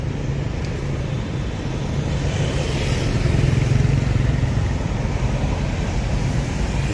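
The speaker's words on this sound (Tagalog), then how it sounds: "Hindi na tayo tatawid at medyo delikado, masyado mabibilis ang mga motor." Steady roar of fast motorcycle and car traffic on a busy Saigon street near the Unification Palace, a continuous close wash of engines with one louder pass swelling midway, no talking.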